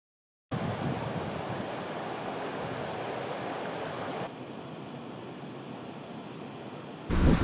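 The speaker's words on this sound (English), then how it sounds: "There's a stream coming in here, with the river coming down here, and then you have it going on down there." A mountain stream meets the Shannagh River in the Mourne Mountains, giving a steady, close hiss of flowing water that softens slightly partway through before a louder burst at the end.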